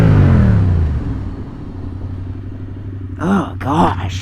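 Motorcycle pulling off to do stoppies, its engine rumbling loud and close, then fading to a lower idle-like drone, with a couple of rising revs near the end.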